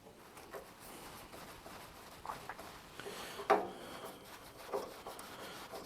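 A screwdriver works a rusted screw on a Model A Ford door, giving faint scraping and rubbing with a few sharper creaks and clicks at irregular intervals.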